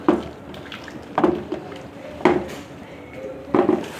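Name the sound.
mixing chicken with vinegar in a pot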